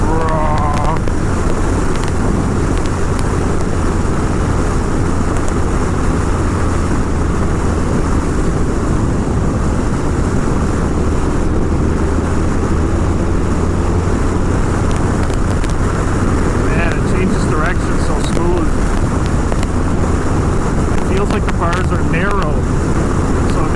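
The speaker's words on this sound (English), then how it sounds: "Even with the earplugs in, I can just hear those exhausts." Kawasaki ZX-10R motorcycle exhaust droning steadily under heavy wind buffeting at riding speed, a low continuous rumble that stays constant throughout with no distinct gear changes, muffled as if heard from the saddle.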